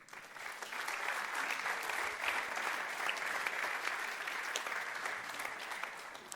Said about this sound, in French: Je pense qu'on peut encore une fois les applaudir.